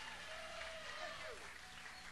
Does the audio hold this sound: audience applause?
yes